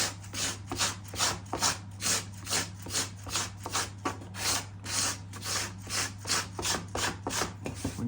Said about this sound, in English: So you can do your scraping